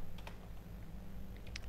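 A computer keyboard is tapped to enter a terminal command, with a few quiet clicking keystrokes in two small bursts, near the start and near the end.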